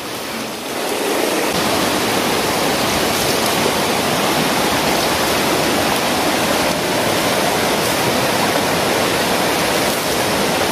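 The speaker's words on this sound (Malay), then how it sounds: "Itu air sumber itu guys" Clear spring water flowing beside a river, a loud, steady rushing and splashing that fills the whole stretch with no talk.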